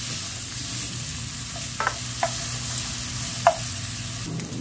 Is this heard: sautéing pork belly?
yes